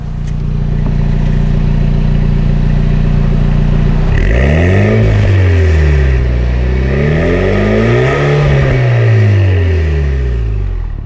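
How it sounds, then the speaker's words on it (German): Engine of a tuned 2020 Renault Megane RS Trophy R, warmed up, revving: steady idle, then repeated throttle blips rising and falling in pitch, loud and close with no talk. "jetzt darfst du mal ein bisschen Gas geben. Jetzt ist der Motor warm."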